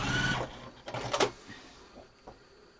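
A sewing machine stitches over a quilt seam on a Farmer's Wife quilt block, giving a short mechanical whirring burst at close range in a quiet room, with faint handling noises before and after.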